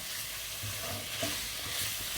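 Garlic and ginger paste fries in a pan for masala chicken liver, a steady close sizzle with stirring scrapes throughout and no talk.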